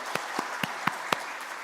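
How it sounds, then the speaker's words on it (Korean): Church congregation clapping to welcome visiting officers from other churches, a sparse run of about five separate claps spaced evenly over steady room noise. "우리 박수로 한번 환영할까요?"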